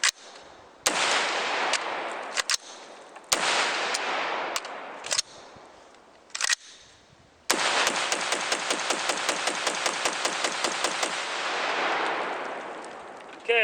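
An LWRC rifle fires off the rest of a magazine after a mud test: several loud single shots and short bursts come first, then a long fast string of rounds runs nearly continuously for about four seconds, close and with no talking.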